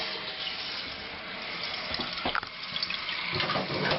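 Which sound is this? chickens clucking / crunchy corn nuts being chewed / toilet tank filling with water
toilet tank filling with water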